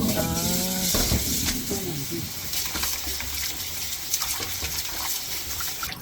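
Wild mugwort herbs are washed under running water, with a steady, close gush of splashing and rinsing and a short voice heard near the start.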